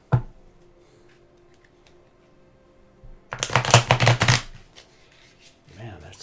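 A brand-new tarot deck being shuffled by hand, a quiet riffle at the start followed by a loud, rapid burst of stiff card riffling for about a second, then softer handling.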